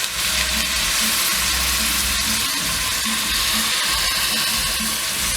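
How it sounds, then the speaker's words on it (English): Tomatoes and a little water sizzle steadily in a hot pan, a dense continuous crackling hiss up close with faint stirring or bubbling underneath. "I normally just add water until it stops making the sizzling sound."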